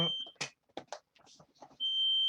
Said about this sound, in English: Sorry people, my smoke alarm had just came off